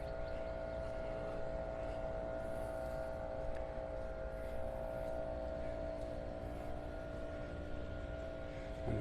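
A leaf blower runs nearby on a street close to Vanderbilt Beach in North Naples, Florida, giving a steady, loud droning whine that holds unbroken throughout.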